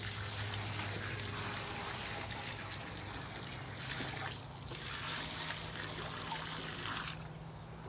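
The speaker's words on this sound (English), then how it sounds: "I'm just gonna pour this all through all this here. And that's all you do is just pour it in your trench." Termite treatment liquid pours steadily into a soil trench beside a pier and beam house, a continuous close trickling and splashing stream that runs for several seconds and then quickly drops away to a softer hiss.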